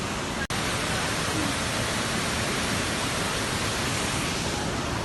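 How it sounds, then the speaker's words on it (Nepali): The Seti River in Nepal flows far below a gorge, heard as a steady, even rushing hiss with one brief dropout near the start and no voices. "उहाँ तल तल बगिरहेको छ सेती नदी"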